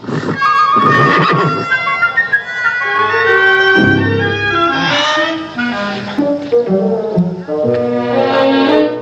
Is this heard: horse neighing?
yes